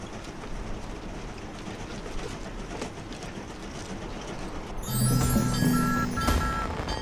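A train runs in Mini Trains, heard as a low rolling rumble that gives way near the end to a louder rattling, clattering passage with bright tonal squeals, and no one talking.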